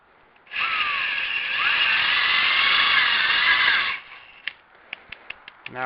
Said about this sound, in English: You still need to try to pay attention to keeping the drill straight.